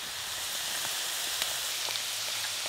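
Chili paste hitting hot oil in a pan with crab and lightly fried chopped onions, giving a steady, close sizzling hiss with faint crackles throughout, no voices.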